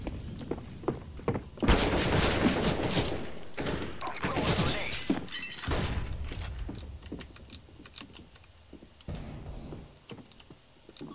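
A flashbang grenade bursts in a video game, a loud sustained blast and rushing noise following sharp clicks, then more scattered clicks and clatter, with a voice speaking over parts of it.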